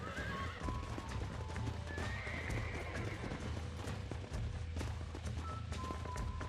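A horse being broken in Red Dead Redemption 2 neighs and whinnies while its hooves clop steadily, with the game's ambient sounds underneath and no speech.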